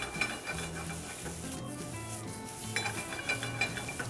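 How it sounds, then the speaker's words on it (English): Pasta being stirred in a pot of water coming back to a boil, giving soft scraping and swishing with faint bubbling, close by and steady with no talking. "we are going to give it a quick stir and let that come back to a boil"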